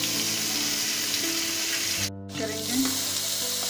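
Asafoetida and chopped green chillies frying in hot oil, a continuous loud sizzle that briefly cuts out and returns; someone speaks a word over it.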